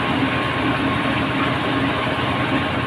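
A rice milling machine grinds paddy to strip the husks, giving a constant loud mechanical roar and hum with steady low rumble and no pauses.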